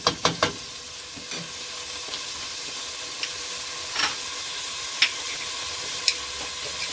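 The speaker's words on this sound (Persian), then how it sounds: "سبزیمون هم تقریبا تفت خورد" Chopped herbs sautéing in a pan for a rice dish, with a quiet steady sizzle and a few sharp stirring clinks near the start and scattered later.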